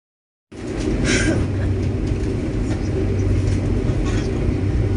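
An economy-class Kertanegara train sits at a station before departure, giving a low, steady rumble and hum that starts abruptly, with faint voices and a station announcement-like sound drifting in over it.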